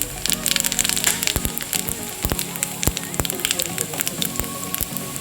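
Steady crackling sizzle of cumin seeds frying in hot oil in a wok, with sharp pops and crackles scattered throughout; close and moderately loud.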